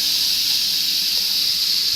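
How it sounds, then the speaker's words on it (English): Three slices of thick-cut bacon sizzling in a pan over medium heat, a steady, even hiss that stays constant and close throughout with no talking. "we're going to let that bacon cook until it's done"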